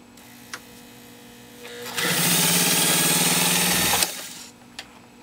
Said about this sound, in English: Did you see how quickly it ran through this genuine cowhide?